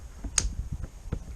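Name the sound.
paddle pin clicking into place on paddle board paddle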